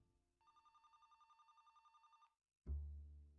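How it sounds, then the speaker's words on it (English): An in-game telephone in The Roottrees are Dead rings in a steady warbling electronic trill for about two seconds, then cuts off before a loud low thump. "Phone call."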